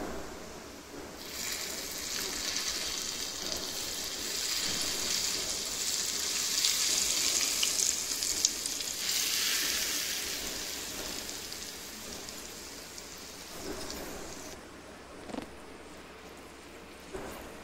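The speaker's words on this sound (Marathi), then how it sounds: "आता गॅस बंद करू आणि ही फोडणी आपण जिथे आपण मसाला ठेवलेला आहे एका खड्ड्यामध्ये त्याच्यावर आपण ओतू।" Hot tempering for a red pumpkin bharit poured over spices: a loud, hissing sizzle that rises and swells for several seconds, then slowly fades into quieter crackling, close up with no speech.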